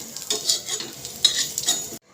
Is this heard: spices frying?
yes